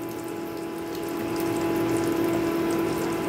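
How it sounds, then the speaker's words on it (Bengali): Half a spoon of asafoetida and black cumin frying in hot white oil in a pan, a steady loud sizzle with a bright tonal hiss holding throughout and growing slightly louder, no talking. "ফোড়নটাকে আমি 4 থেকে 5 সেকেন্ড একটু ভালো করে একটু ভেজে নেব"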